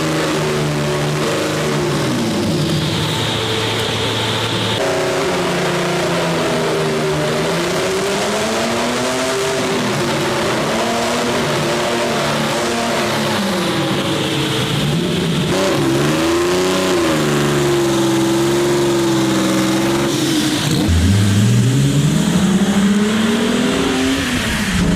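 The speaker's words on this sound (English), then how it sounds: "Golf Mark II with VR6 twin turbo." A Golf Mark II fitted with a VR6 twin turbo engine revs loudly and close by, with the pitch repeatedly rising and falling through sustained throttle blips.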